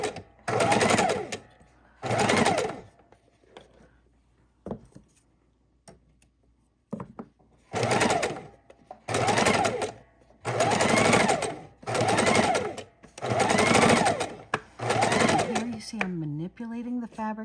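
Domestic sewing machine stitching raw edge appliqué onto a Halloween quilt, running in repeated bursts of about a second each, with pauses between them where the fabric is turned around a curve.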